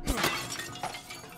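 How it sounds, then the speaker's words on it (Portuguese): Mirror glass shatters in the video game Resident Evil Village, one sharp crash at the start followed by a brief trailing spray of breaking shards, moderately loud with no talk. "Quebrem esses espelhos aqui, ó."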